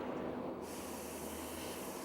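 An airbrush or spray gun hisses steadily and close while paint goes onto a motorcycle part, a continuous airy spray with a faint low hum beneath and no talking.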